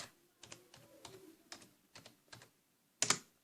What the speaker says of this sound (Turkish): Şimdi arkadaşlar arama yapın yerine Minecraft yazın arkadaşlar.